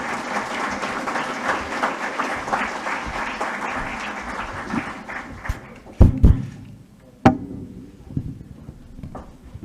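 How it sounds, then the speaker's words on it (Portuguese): Audience applause at an inauguration ceremony, a dense sustained clapping that gradually thins out, leaving a few scattered loud claps and thumps near the end. "Mais uma vez a nossa salva de palmas"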